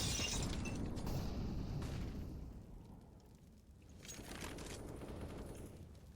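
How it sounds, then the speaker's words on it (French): A grenade blast in CS:GO on the Vertigo map gives a loud, rumbling explosion that fades, followed by further muffled booms and crackling. "Grenade out."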